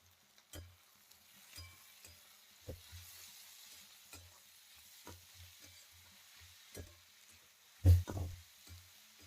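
Capsicum and carrot frying in a pan for street-style Maggi, a faint background sizzle broken by repeated soft scraping stirs and a sharper clink near the end, with no talk.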